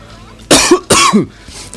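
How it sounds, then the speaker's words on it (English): Two harsh, forceful coughs in quick succession, close and loud, with a short pause between them and no talking. "I'm coughing every 5 minutes."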